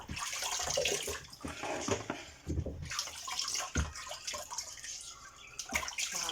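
Sheep's head meat being washed and scrubbed under running water: steady splashing flow with wet rubbing and occasional clunks, close up and fairly quiet, no voices.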